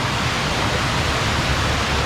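Small cascading waterfalls at Old Stone Fort State Park rush in a constant, broadband roar, close and loud, with no break or variation in the churning water.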